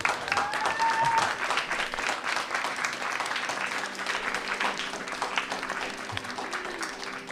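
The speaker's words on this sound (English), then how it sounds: "I think maybe, I don't know, a round of applause for space" Audience at a talk session breaking into a round of applause, steady clapping with a few faint tonal sounds and murmurs underneath, holding at a moderate level for the whole stretch.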